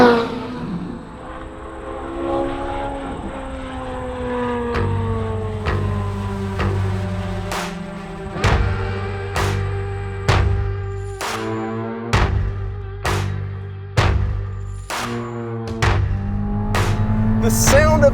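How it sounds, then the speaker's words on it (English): A 2023 Chevrolet Corvette Z06 V8 revs and accelerates hard, the engine note climbing through gears with sharp shift breaks, loud and close and heard alone. "The sound of the engine is one thing, the nature of the power band is one thing."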